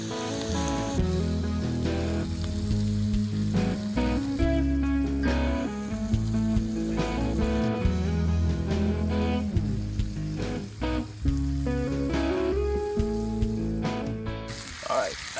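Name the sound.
venison heart steaks searing in butter in a hot pan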